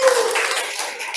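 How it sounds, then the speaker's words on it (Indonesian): A classroom group clapping together at a university teaching session, a dense, steady patter of many hands lasting throughout, fairly loud and close. "Oke, tepuk tangan semuanya"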